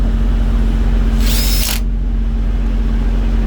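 Power tool working on a truck's Thermo King TriPac unit, a short high whirring burst of about half a second over a steady engine-like hum that continues alone afterward.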